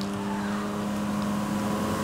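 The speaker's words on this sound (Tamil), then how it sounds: "சவுண்ட் வருதா, கார் ஓடுற சவுண்ட்?" A virtual car's engine drones at a steady pitch in a driving video game played with a steering wheel setup, the tone holding even and continuous throughout without any voices.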